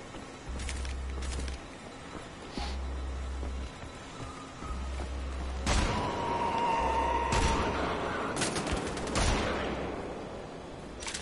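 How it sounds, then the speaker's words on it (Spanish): Shotgun fire in Wolfenstein: The Old Blood: heavy booming blasts roll out at intervals, with a low thudding pulse repeating beneath and a denser barrage of shots later on. "Modo escopeta."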